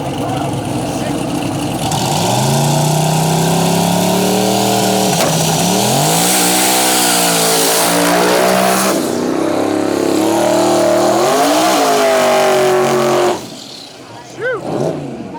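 A twin-turbo LS-powered Nissan 240 box-body drag car with no front end, running small tires, does a burnout at a drag race: a loud, sustained engine roar whose pitch rises and falls for about eleven seconds before cutting off abruptly.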